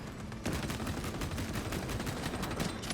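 Rapid heavy bolt pistol fire in Space Marine rattles in a dense, continuous burst, loud and gritty over game ambience, with no voice over it.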